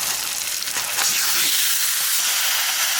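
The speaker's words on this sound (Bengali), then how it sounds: "পেঁয়াজটা লাল লাল করে বাজিয়ে নিচ্ছি।" Onions sizzle loudly in hot oil while being fried until reddish for a village-style duck curry, a dense, close frying hiss with some stirring at the start.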